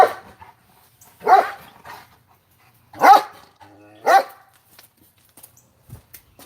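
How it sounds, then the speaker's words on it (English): A dog barks four times in separate, spaced bursts, close and loud, with quiet gaps and small noises between the barks. "Barking at nothing."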